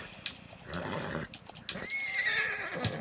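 A horse in Red Dead Redemption 2 Online neighs in a bright, wavering whinny near the middle of a short stretch, with soft hoof and movement noises around it and no talking.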